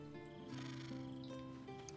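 A cat meows in the video game Baldur's Gate 3, a short tonal call over sustained in-game background music.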